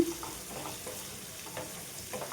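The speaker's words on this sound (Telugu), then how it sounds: "ఇప్పుడు ఇవి కూడా మంచి గోల్డెన్ కలర్ వచ్చేంత వరకు వేయించుకోవాలి" Sliced onions and green chillies fry in hot oil for a black-eyed pea gravy curry, giving a steady soft sizzle with faint stirring scrapes, close and quiet, no voices.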